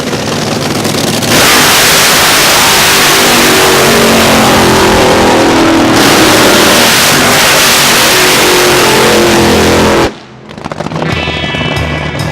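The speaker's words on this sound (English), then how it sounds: "Street legal drag racing on Woodward." Street legal drag racing cars on Woodward at Roadkill Nights, a loud, close engine roar revving and accelerating hard for about ten seconds, then cutting off sharply to a quieter crowd and engine background.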